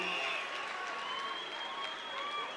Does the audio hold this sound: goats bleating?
no